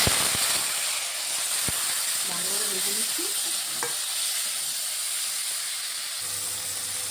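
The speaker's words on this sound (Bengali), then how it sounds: "টমেটোটাও তেলে দিয়ে দিচ্ছি" A large chopped tomato hits hot oil with cumin and sets off a steady, hissing sizzle close by, with a few sharp clicks of the utensil and faint stirring under it.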